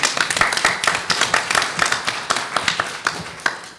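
Dense audience applause for a congressman at a legislative conference: many hands clapping steadily and close, a continuous crackling wash of claps lasting the whole stretch with no talk over it.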